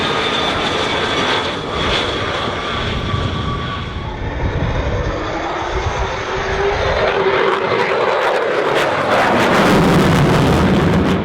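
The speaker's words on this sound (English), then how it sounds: "that landing technique is not showing off. It's called aerodynamic braking" A military jet lands at the 2017 Avalon Airshow with its nose held high for aerodynamic braking. Its engine roars loudly and continuously, and the pitch sweeps as it passes near.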